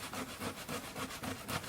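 Potatoes rubbed against a kitchen grater in a village home kitchen, a steady rhythmic rasping scrape repeating about every quarter second, close and moderately loud with no talking.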